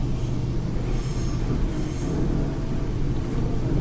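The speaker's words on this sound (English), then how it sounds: "This train's so quiet though, nothing like the A and B series." A Wellington Johnsonville Line commuter train running, with a loud steady rumble and rolling wheel noise and faint high squeals, continuous throughout with no talk.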